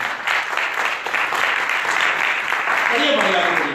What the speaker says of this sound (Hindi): जोरदार ताली बजा सकते हैं।